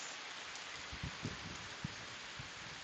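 Rain falling outside at night, a constant soft hiss of drops with a few low thumps from drips scattered through it, faint and steady with no voices.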